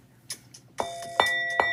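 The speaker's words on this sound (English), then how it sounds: "Let me ring the bell for you." A small hand bell is rung three times in a row, evenly spaced, each strike a clear, close, bright ring that lingers into the next, with no voices over it.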